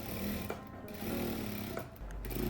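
A sewing machine stitches fabric onto a quilt lining with a steady low mechanical whirr in short runs, pausing briefly between them, close by and moderately quiet.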